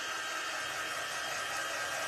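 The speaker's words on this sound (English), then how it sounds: "I am going to dry this just a little bit." A hair dryer blows steadily on a DIY shirt, a constant loud hiss of rushing air with no breaks and no talking.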